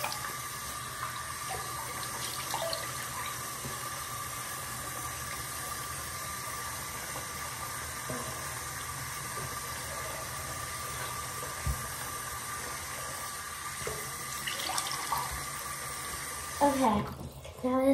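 A bathroom tap runs steadily while someone washes their face, a constant soft hiss of flowing water with a few louder splashes and clatters near the end.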